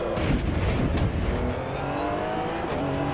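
A race car engine in the Assetto Corsa EVO racing game, roaring loud and close under hard acceleration, then settling into a steady high drone with a hint of tire noise.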